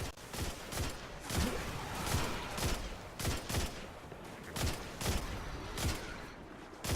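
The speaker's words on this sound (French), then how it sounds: "J'aime bien le fusil d'éclaireur quand même." Scout rifle shots in Destiny 2 ring out as evenly spaced single cracks, about a dozen sharp reports in a steady rhythm, fairly loud and close.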